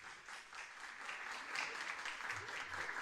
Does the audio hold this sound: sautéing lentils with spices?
no